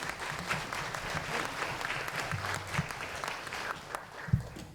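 Audience applause at a Hi-Q high school quiz match between St. Luke's, Baker and Theodore, a steady patter of clapping sustained for several seconds at moderate distance, with a few sharper low thumps near the end.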